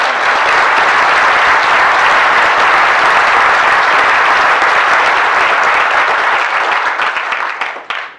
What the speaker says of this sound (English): we will applaud Jamie for his barn owl